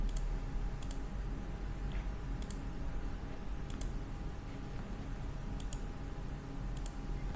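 Software buttons are clicked with a computer mouse while setting up WiFi or 4G configuration on an ADW300 series device: a few sharp, brief, evenly spaced clicks over a steady low hum.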